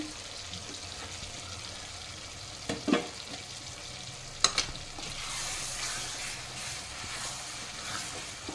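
Chili powder is stirred into an egg curry frying in a pan, giving a steady soft sizzle with a few louder scrapes and clinks of the spoon, close up and without talking.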